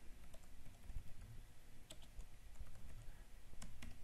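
Quiet, rapid typing on a computer keyboard, an irregular stream of soft key clicks with a few sharper taps, close and alone.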